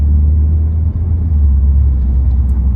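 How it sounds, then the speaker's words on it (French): A Peugeot 3008 gathers a little speed on a road drive, its engine a steady, loud low rumble with no clear rise in pitch and no voices. "Alors on va prendre un petit peu de vitesse."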